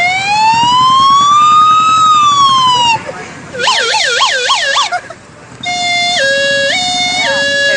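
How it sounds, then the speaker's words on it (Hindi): A police car siren cycles through modes: a long rising-and-falling wail, then a rapid warbling yelp, then an alternating two-tone pattern, loud and close with short gaps between changes. "ये पुलिस के गाड़ी की आवाज"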